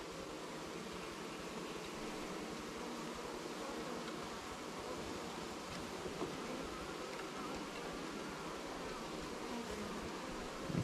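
A dense, steady hum of many honeybees swarms around a hive on an Alaskan homestead while a new queen is installed, the drone continuous and close for the whole stretch with no talk.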